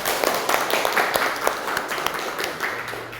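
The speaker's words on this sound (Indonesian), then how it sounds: "Oke, tepuk tangan untuk kita semua." Scattered clapping from a vocational high school automotive class in a classroom, moderately quiet with uneven, individual claps over a few seconds.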